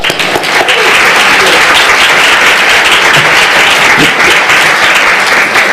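A loud, dense burst of audience applause in a lecture hall as a speaker is welcomed at a talk on young people in recovery education, filling the whole stretch without a break.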